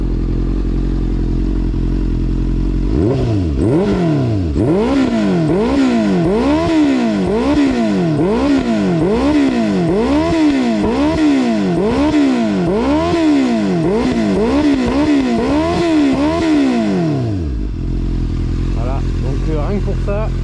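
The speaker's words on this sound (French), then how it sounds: "petit moteur 4 cylindres, un petit moteur, beau moteur 4 cylindres" A Honda CBF 600 N with a four-cylinder engine idles, then is revved again and again in a steady rising-and-falling rhythm for about fifteen seconds, loud and close, before settling back to idle.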